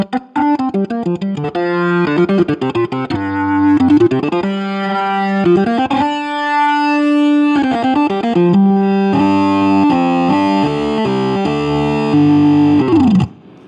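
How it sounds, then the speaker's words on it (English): A sustained Hammond B-3X organ playing chords through a modeled distortion pedal, loud and gritty, shifting through several chord changes without pause. "we've got models of a distortion pedal, which actually adds some really nice distortion as well"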